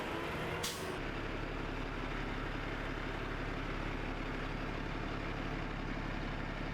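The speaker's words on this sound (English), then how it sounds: "As many as 250 trucks per day deliver wood fiber to the mill, 24 hours per day, 7 days per week." Heavy trucks delivering wood fiber to a pulp mill, a sharp air-brake hiss near the start followed by a steady loud engine rumble and road noise throughout.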